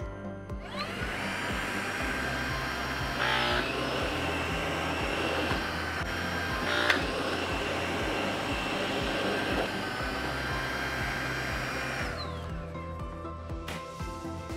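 A Tornado cordless vacuum cleaner runs steadily with a whining motor hum, rising and dipping a few times as it moves between carpet and hard floor, then cutting off near the end; no one speaks.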